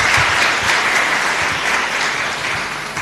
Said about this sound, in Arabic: صفقوا له.